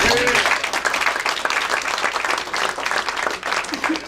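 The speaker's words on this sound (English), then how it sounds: "I want to everybody give Louis a round of applause" A crowd at a local Republican party gathering claps for Louis, a round of fairly loud, dense applause that holds steady throughout, with faint voices mixed in.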